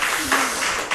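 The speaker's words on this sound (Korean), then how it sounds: "주님께 다시 한번 영광의 박수 올려드리도록 하겠습니다" Church congregation clapping at a Wednesday worship service, a brief burst of applause heard over a sustained tone and a voice, only a second long.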